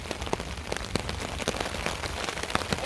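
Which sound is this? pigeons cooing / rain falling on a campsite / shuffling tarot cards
rain falling on a campsite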